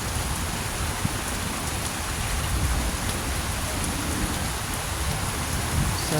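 Steady rain pours down outdoors over a freshly planted garden during stormy flood-warning weather, a dense, even hiss of drops on surfaces that holds constant throughout with no talk.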